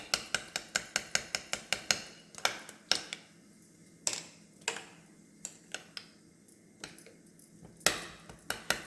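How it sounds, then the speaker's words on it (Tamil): Eggs mixed with onion, green chili and coriander leaves are whisked briskly in a bowl. A fast run of sharp, close clinks and taps starts things off, then settles into a looser, uneven beating rhythm. "இது நல்லா அடிச்சுக்கலாங்க."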